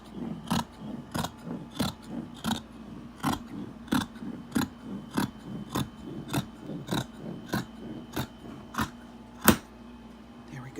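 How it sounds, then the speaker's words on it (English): Scissors snip through fabric along a marked line, about fifteen crisp, evenly spaced cuts close to the microphone, the last one the sharpest, with no talking. "So We're going to cut right on this line."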